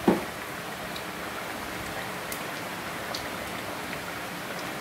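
Dried red chillies, bay leaves and black cumin crackling in hot oil for a vegetarian taro-leaf dish, a steady close, dense fizzing sizzle that holds evenly throughout, with no talking.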